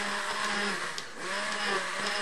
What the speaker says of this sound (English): So I look for a mixer so that it will break the foam.